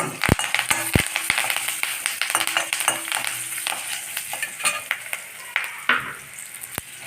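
Curry leaves and dried red chillies crackle and sizzle in hot oil for a Tamil fenugreek kuzhambu tempering, a steady close frying hiss broken by sharp pops and spatters, with occasional clinks of a pan.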